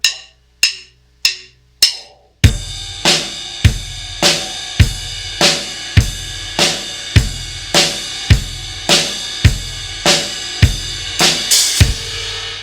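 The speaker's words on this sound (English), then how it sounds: "we're gonna alternate between bass and ride and snare and ride" A drum kit plays a steady quarter-note rock groove, bass drum and snare alternating under a ride cymbal, after a few sharp sticks count it in.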